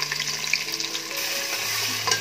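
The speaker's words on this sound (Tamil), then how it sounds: "மசாலா பொரிய ஆரம்பிச்சதும் இந்த வெங்காயத்தை சேர்த்துடலாம்" Onion and whole spices frying in hot oil for a pressure-cooker chicken biryani, a close, continuous sizzle with soft stirring scrapes and no voices.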